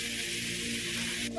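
Onions and tomato frying in a pan give a steady, close broadband sizzle that holds evenly throughout, with a brief clatter near the end.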